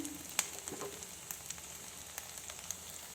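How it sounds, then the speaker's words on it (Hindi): Fish cutlets sizzle softly in a shallow layer of low oil, a steady faint crackle with a few sharper pops, close and quiet with no talking. "थोड़ा थोड़ा ऑयल में डालती रही हूँ"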